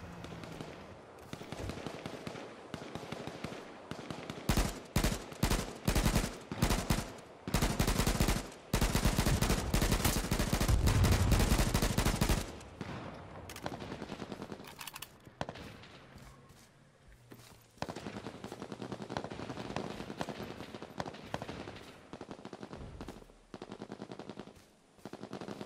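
Gunfire in the survival shooter game H1Z1: rapid bursts of automatic fire and single shots, loud and close, with a long sustained volley in the middle, then quieter scattered shots and background sounds.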